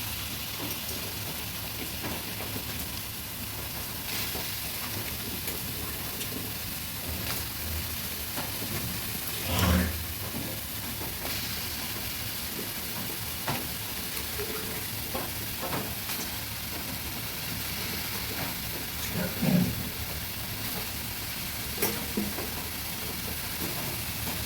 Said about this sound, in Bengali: উনানে একটা কড়াই বসিয়েছি, এবার চিচিঙ্গাগুলো দিয়ে দিচ্ছি।